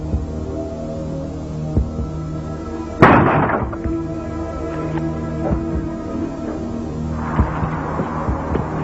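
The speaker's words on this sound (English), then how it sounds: "The bang at the door was immense. The whole house shook." One sudden, heavy bang strikes a house door and rings out over a low, droning hum that carries on steadily afterwards.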